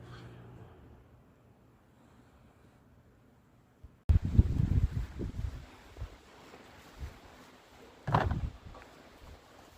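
Strong gusts hit the microphone at a mountain campsite in cold early-morning weather, quiet at first, then a sudden loud rumbling buffet and later bursts of wind noise.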